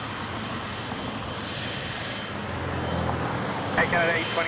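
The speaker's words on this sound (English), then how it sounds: "777-300 ER to Barcelona, Air Canada 820" Engines of an Air Canada Boeing 777-300ER heavy jet at Toronto Pearson Airport, a loud steady roar that swells slightly toward the end, heard outdoors from close by.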